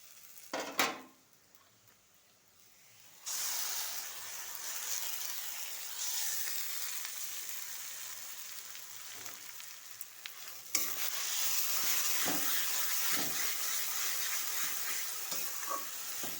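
Cabbage and tomato paste tipped into hot oil in a pan, with browned onions already in it, bursts into a loud steady sizzle. The stirring adds scrapes and clinks, and the sizzle grows stronger partway through.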